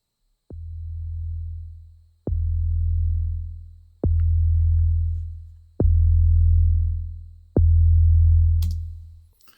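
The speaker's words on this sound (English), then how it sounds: "it's just a sine wave kick, kind of like in the 808 style, 909 style" A sine wave 808-style sub kick played in Logic Pro X, five deep booming hits spaced about two seconds apart, each with a sharp click attack and a long sustained sub tail that fades before the next.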